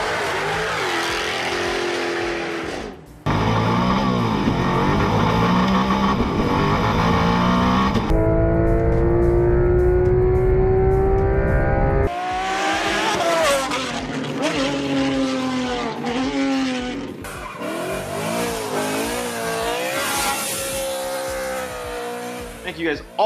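Several sports car engines follow one after another, each revving hard and accelerating with rising and falling pitch, loud and close, switching abruptly between different engine notes.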